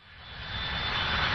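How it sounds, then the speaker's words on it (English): Airplane engine roar as a plane lands, a steady broadband rumble and whine that swells louder over a second and a half and then holds, with no voices. "Lands at the airport on a plane."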